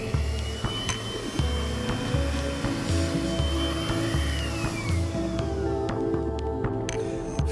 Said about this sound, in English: we can use a silicon cone and a hot air gun